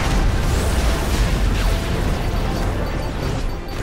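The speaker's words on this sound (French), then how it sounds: "Train d'artifice." A fireworks attack in the video game Kingdom Hearts 3, loud and continuous, with dense crackling bursts and booming blasts layered into one roar.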